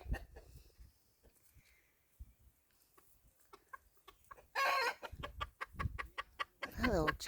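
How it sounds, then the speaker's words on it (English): Bantam chickens in a pen clucking, a run of close, loud, rapid clucks and squawks after a quieter stretch, with a person speaking briefly at times. "Found some chickens. They're little bannies."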